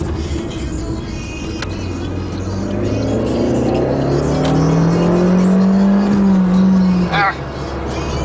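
An Alfa Romeo MiTo engine revving up to 6000 rpm, heard from inside the car as a steady hum that rises in pitch and builds into a strained whine before dropping off.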